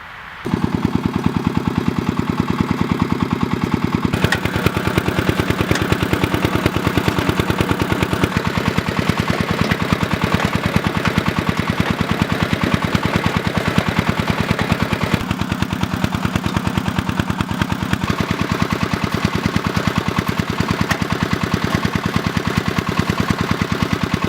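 A two-row Zarya potato planter with a fertiliser hopper, pulled by a walk-behind tractor, works in the field: a loud, steady, rapid engine chatter runs throughout with mechanical clatter over it, alone and without talk.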